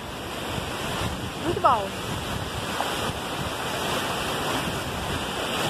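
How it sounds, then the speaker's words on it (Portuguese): Ocean waves wash in steadily at Praia da Florestinha, a broad, constant surf roar mixed with wind noise on the microphone, while people speak briefly over it. "Que marzão lindo, né, gente?"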